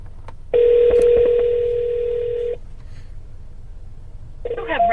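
A telephone being dialed for a cold call: a steady tone sounds for about two seconds with quick keypad beeps cutting across it, then a short burst of dialing tones returns near the end.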